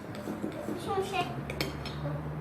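Orange slime gets stirred in a bowl, with soft scraping and clinking of a utensil against the dish while someone talks nearby.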